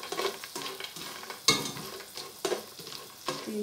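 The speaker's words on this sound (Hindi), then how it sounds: "मैंने नट्स को फ्राई कर लिया" Nuts frying in a pan for sweet vermicelli milk pudding, stirred with repeated scraping strokes over a soft, steady sizzle, close and fairly quiet.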